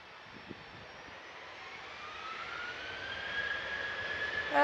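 A jet airliner arrives at Manchester Airport with a steady, distant engine roar that swells slowly in loudness and pitch as it approaches, heard alone without talk.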